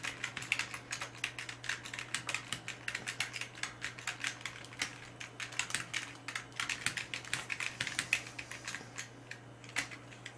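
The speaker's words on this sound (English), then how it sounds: "What am I typing in?" Fast, irregular clicking of computer keyboard keys with brief pauses between bursts, close and fairly quiet over a low steady hum, no one speaking.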